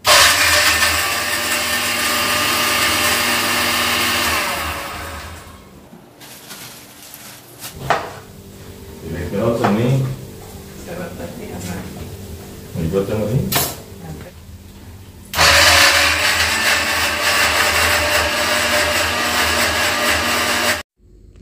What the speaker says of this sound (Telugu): సో ఇంకా మిక్సీ జార్లో వేసి చక్కగా ప్యూరీ చేసేస్తాను